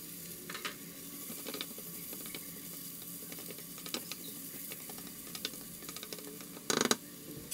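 Pancetta sizzles in a pan with finely chopped carrot for a home-made goulash: a soft, constant frying hiss broken by scattered clicks, scrapes and a louder clatter near the end.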